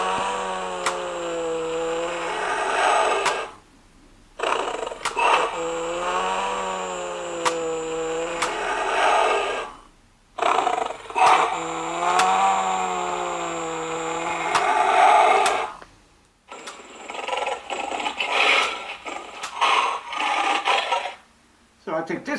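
A 2000 Animal Planet animatronic roaring lion plush toy gives a low, drawn-out moan that sounds more like a cow mooing than a roar, over a steady mechanical whir. It repeats three times with short silences between, followed by a rougher, noisier stretch.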